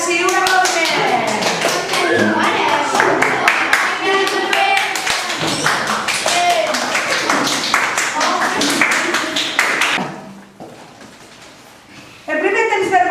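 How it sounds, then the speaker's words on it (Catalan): A game show audience claps for the contestants in a dense, close burst of hand clapping lasting about ten seconds. It then drops to a quiet murmur before noise picks up again. "Un aplaudiment."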